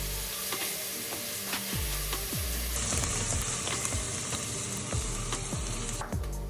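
Meat for chili sears in a hot pan with a loud, steady sizzle, and repeated scraping knocks from stirring land every half second or so, close and continuous.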